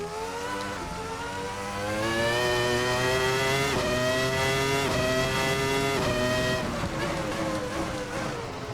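A race car engine revs and climbs through the gears on a wet track in the racing sim Assetto Corsa, the pitch rising steadily and dropping at each shift, loud and close throughout.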